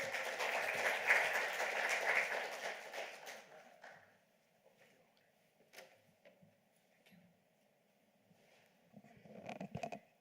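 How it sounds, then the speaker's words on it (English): Audience applause for a speaker at a talk on native planting in the Coachella Valley, dense clapping for about three seconds that fades out, followed by a few faint scattered claps and small room noises. "Let's give her a round of applause,"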